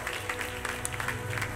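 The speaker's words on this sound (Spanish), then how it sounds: "Dale un aplauso al Rey con todo tu corazón." A church congregation clapping during a Spanish-language worship service, a short burst of scattered, fairly faint hand claps with a low murmur of voices beneath.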